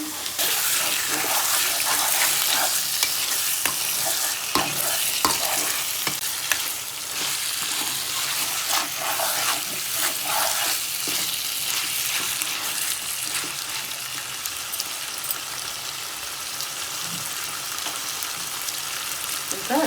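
Mutton liver curry frying in hot oil while being stirred in a pan, a steady close sizzle with scraping stir strokes running throughout and no talking.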